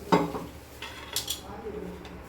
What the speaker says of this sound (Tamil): நல்லா சுட சுட இப்படி கிண்டிக்கிறோம்.